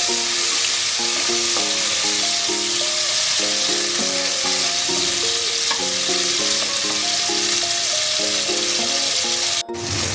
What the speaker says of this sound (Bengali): এবার আমি চিংড়িগুলো দিয়ে দিলাম। এখানে আমি 100 গ্রাম চিংড়ি নিয়েছি। একটু লাল করে ভেজে নেব।